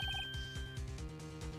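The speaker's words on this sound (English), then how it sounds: "Heard a phone ring now." A phone rings in the courtroom game Phoenix Wright: Ace Attorney, giving a short electronic trill of rapid repeated tones over a looping background music track.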